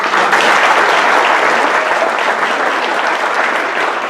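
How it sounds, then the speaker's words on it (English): A round of applause at an arts awards ceremony in Barrie, with a full audience clapping steadily and loudly, close and sustained for several seconds without talk. "So let's just a round of applause, Jeanette."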